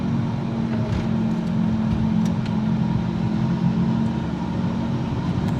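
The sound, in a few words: Nissan Livina car driving in D, automatic gear shifts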